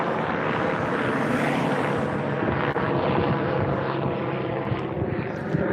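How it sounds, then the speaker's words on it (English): A news helicopter flying overhead during an outdoor walk, a loud, continuous rotor and engine roar that stays steady and fills the scene with a broad rumbling drone. "it's a news helicopter"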